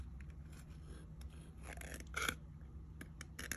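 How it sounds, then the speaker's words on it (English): A few quiet snips and scraping cuts from regular scissors working through a thin metal tuna can lid, soft and close, with a sharper rasp near the end. "I just got my scissors, regular scissors, and just go ahead and cut"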